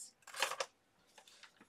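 Big scissors snip along the edge of a paper calendar page, a close, dry cluster of blade-on-paper crunches followed by a few fainter, softer snips.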